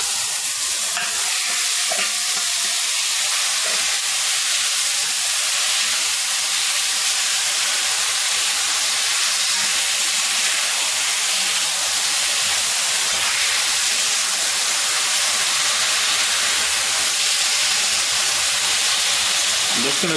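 Chicken pieces dropped into caramelised sugar in a pot for coconut stewed chicken, a loud, continuous sizzle and steamy hiss, close and steady throughout.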